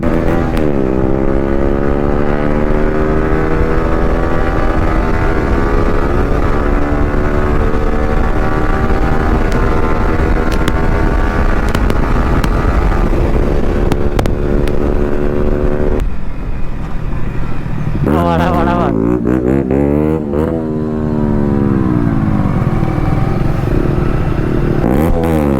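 A motorcycle on a group ride with R15 V3, Duke 390 and NS160 bikes revs hard through a long wheelie, its loud, close engine rising and falling in pitch, with a brief dip before climbing again.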